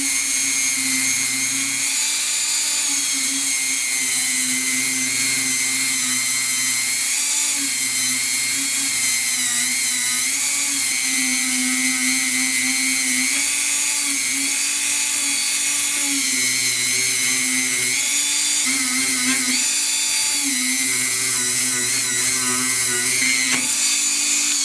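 A high-pitched rotary tool with a sanding drum whines steadily without pause, its motor pitch wavering slightly as it grinds and smooths a metal surface.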